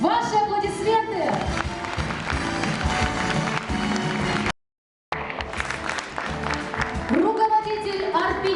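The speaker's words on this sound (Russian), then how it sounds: "Ваши аплодисменты!" Audience applause for a choir concert, a full, sustained round of clapping from a hall crowd with music playing beneath it, briefly cut out midway before resuming.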